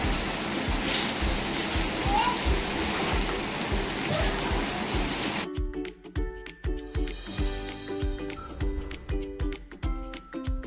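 Loud, steady sizzling and crackling of paneer cubes frying in hot oil, dense spitting hiss that thins out halfway as the cooking quiets.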